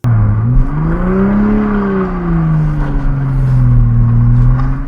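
A Toyota Supra doing a burnout on a wet road, its engine droning loud and close with a wavering, rising and falling pitch over a continuous roar.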